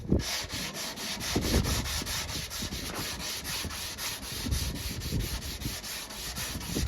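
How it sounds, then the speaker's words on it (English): Steady back-and-forth sanding strokes with 180 grit sandpaper on a Lamborghini bumper, close up and evenly rhythmic, with no talking. "I'm gonna sand this with 180 grit now rather than 80 grit."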